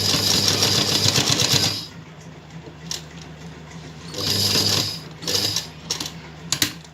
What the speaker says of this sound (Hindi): सीधी सिलाई यहाँ पर हम लगाएंगे